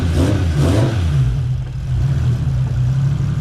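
A cold 2JZ engine with no oil pressure revs briefly near the start, then settles into a loud, steady low rumble at idle.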